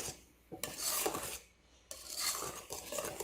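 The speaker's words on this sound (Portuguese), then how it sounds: "E mexendo com o nosso fouet." A whisk scrapes and stirs through cake batter in a bowl as flour and cinnamon are worked in, giving quick rasping bursts of metal against the bowl with short pauses between strokes, close and fairly quiet.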